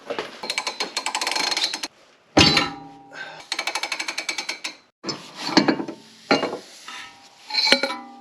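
A 1/2 inch drive ratchet works on a tie rod end on a 2004 Subaru Impreza WRX, giving rapid rattling clicks in bursts separated by short pauses and sharp metallic knocks.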